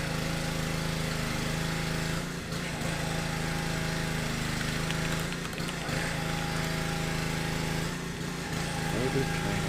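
A lawn mower engine drones steadily nearby for the whole stretch, a loud continuous buzz with a few brief dips, while people talk over it.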